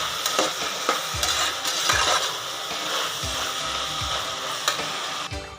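Ginger garlic paste frying in a hot pan for a vegetable pulao, a steady close sizzle with repeated scraping stirs and light metallic clinks of a spoon against the pan, no voices.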